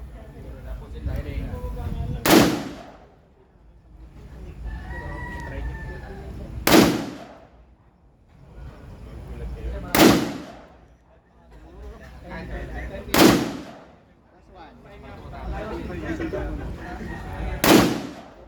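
Five sharp, loud gunshots from a 5.56mm firearm crack out one at a time, a few seconds apart, at a range demo. Each report is followed by a fading echo, and voices talk between the shots.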